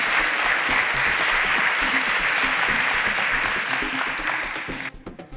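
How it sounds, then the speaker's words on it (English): A studio audience on a Nigerian student quiz show claps for correct answers, a full steady burst of applause lasting about five seconds before breaking into a few scattered claps. "A round of applause"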